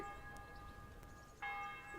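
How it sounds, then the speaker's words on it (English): A church bell rings at midday in Kingdom Come: Deliverance, with two bright, resonant strikes whose tones hang and fade, heard fairly faintly with no speech. "They have a clock tower. Or a man ringing a bell."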